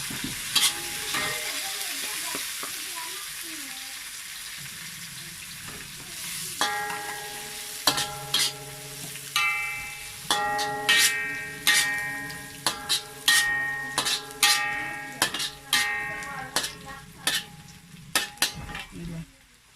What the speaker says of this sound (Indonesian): Cara-cara goreng sayur binterong kita dengan bunga pepayas